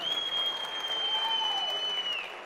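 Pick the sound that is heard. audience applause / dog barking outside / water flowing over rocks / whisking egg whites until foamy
audience applause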